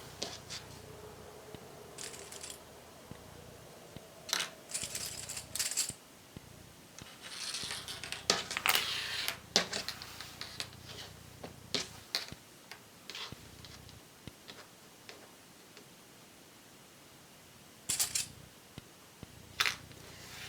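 Small clicks and taps come from sewing clips being fastened onto folded fabric, a scattered series of faint snaps with quiet pauses between them.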